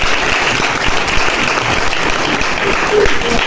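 Loud, sustained applause from an audience at a prize-giving ceremony, dense clapping held at a constant level throughout with a faint voice briefly underneath.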